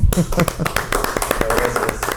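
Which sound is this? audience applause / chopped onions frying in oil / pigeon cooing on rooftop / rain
audience applause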